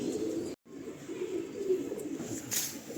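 A pigeon coos low and steadily from close by on a rooftop, a soft continuous throaty murmur lasting a few seconds with a brief dropout partway through.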